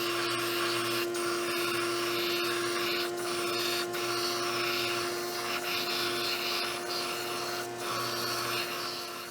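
A power tool whines steadily and loudly while boring out holes in wooden jig blocks to clear a threaded rod, with faint intermittent bites and pauses in the cut and no talking.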